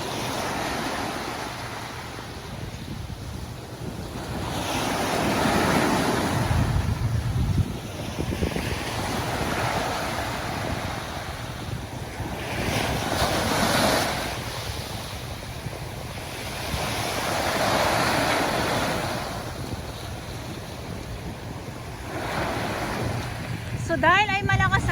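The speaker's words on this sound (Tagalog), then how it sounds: "dahil ay malakas ang alon" Strong waves surging onto the shore at Manila Bay near the dolomite beach, rising and falling in broad washes of surf with gusts of wind buffeting the microphone and no one speaking.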